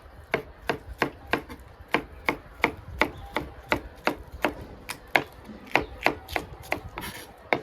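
Steady knife strokes chop green peppers on a cutting board at a moderate, even pace, each chop crisp and close with a slight scraping quality.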